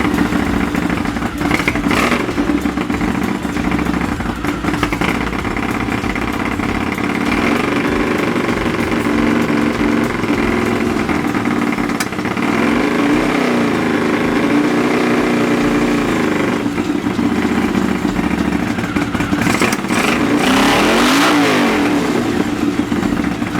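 A Honda CX500 motorcycle's V-twin engine runs steadily close by during colour-tune carburettor adjustment, with throttle blips rising and falling in revs over a constant loud idle.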